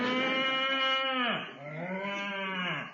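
A comedy sound effect of a mooing cow in a 1930s–1960s British comedy: one long, loud, drawn-out bellow that sags in pitch, breaks, then rises into a second groaning moo, heard alone without speech.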